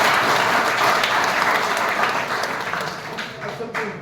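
An audience at a talk on Kuvempu and the Indian Constitution breaks into dense, loud applause that holds steady and then tapers slightly toward the end.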